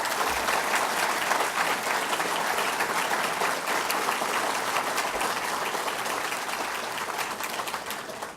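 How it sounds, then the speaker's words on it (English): Diners at a Lincoln Day Dinner applaud a singer. The long, even roar of many hands clapping is held at a steady level for several seconds and fades slightly toward the end, with no speech over it. "Let's give her another round of applause."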